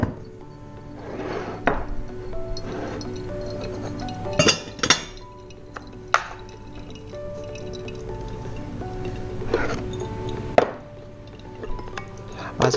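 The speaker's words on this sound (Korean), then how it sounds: "이제 3차 추출, 세 번째 컵에 넣어서 물을 부어주고요." Water is poured for the third extraction of hand drip coffee, with a thin trickling pour and drips broken by several sharp glass and ceramic clinks as a cup and kettle are handled.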